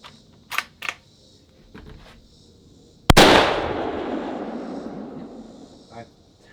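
One sharp rifle shot, a 6.5 Creedmoor or .308 fired into a wooden target, cracks loudly and close by with a decaying echo, after a few faint clicks and handling noises.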